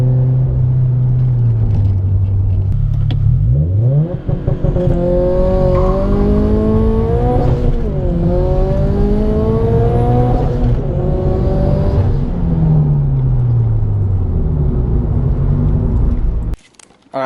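A Subaru BRZ accelerates hard and breaks traction, its engine revving up through several rising sweeps with tyre noise, loud and close throughout, no voices.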